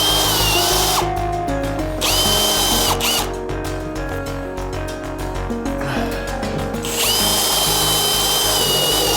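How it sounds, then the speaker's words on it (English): A power drill whines at high speed, then bogs down and stutters in repeated bursts as it bores a hole during rewiring work, before revving freely again; the drill bit is worn. "She's got to drill another hole, Lou."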